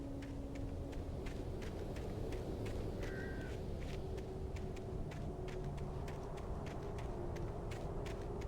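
A crow caws repeatedly in the video game Alan Wake, a series of short, fairly faint calls in a steady rhythm over a constant low ambient hum.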